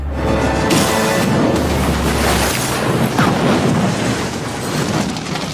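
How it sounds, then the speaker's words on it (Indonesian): A loud, deep explosion boom rumbles and crashes, followed by debris and roaring aftermath filling the space. "menembak tangkinya sehingga menyebabkan ledakan besar"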